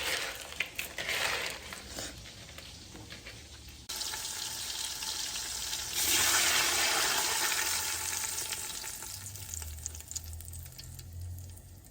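About two cups of water pour into a pot of seared meat and onions for brown beans, a steady rushing splash that swells into a loud sizzle and bubbling, with clattering stirring and no speech.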